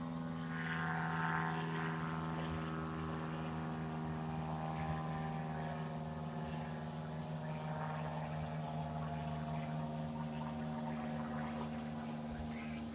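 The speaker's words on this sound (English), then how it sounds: "I see my friends with the raggedy ass plane are back again." A small surveillance plane drones overhead with a steady propeller hum throughout, constant and fairly faint, with no speech in the foreground.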